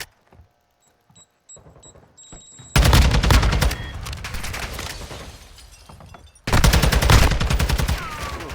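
Rapid automatic gunfire bursts crackle loud and close during an esports video game match, with a quieter stretch of beeps and lighter shots before the heavy fire.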